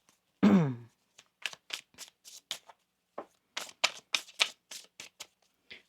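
Tarot cards being shuffled up close: one long riffling burst near the start, then a string of short, crisp card snaps and taps at an uneven pace, moderately loud with no voices.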